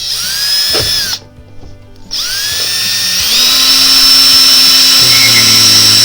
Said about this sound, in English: So now I'm just going to take the super long screws and use my drill.